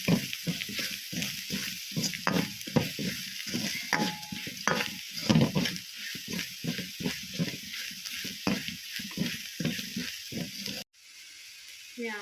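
A spoon stirs food in a hot pan for liver fry, making rhythmic scraping strokes over a sizzling bed of frying, close and steady, before cutting off abruptly near the end.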